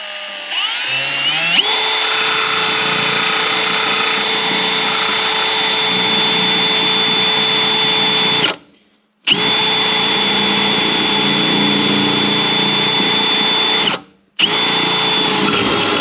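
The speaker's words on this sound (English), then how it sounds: "Just going to use a step bit." A power drill with a step bit boring through a steel brace on a Subaru XT6 car, a loud, steady, close whine that stops briefly twice and then starts again.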